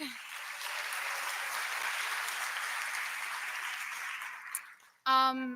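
Sustained applause from a graduation audience at the Frank Sinatra School of the Arts, honoring staff; a broad, steady wash of clapping that swells, then fades out near the end before a voice begins speaking.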